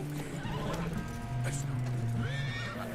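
A horse in the video game Red Dead Redemption 2 gives a loud, close neigh, then a second whinny shortly after, with hoof clip-clops and game ambience underneath.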